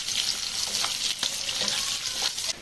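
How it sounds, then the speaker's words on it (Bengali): Cubed onion lightly frying in a pan, a dense, bright continuous sizzle with faint stirring scrapes running through it, close and fairly loud. "এটাকেও ঠিক হালকা ভেজে নেব"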